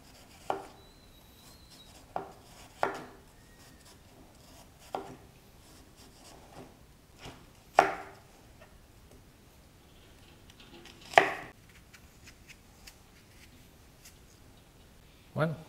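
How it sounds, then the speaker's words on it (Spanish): Apples being chopped on a board for pineapple chutney, with a series of irregular, sharp knife strikes, some louder than others, spread across a quiet kitchen background. "Y ahora estamos picando la manzana."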